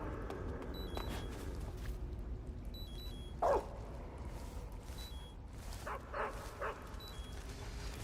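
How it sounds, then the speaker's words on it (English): A dog barks and yips in the Metal Gear Solid 3 video game while chasing the player, with a few sharp barks midway and later over a quiet game backdrop. "This dog is gonna catch me."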